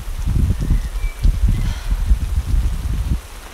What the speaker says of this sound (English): I have to wait until the rain is... you know, over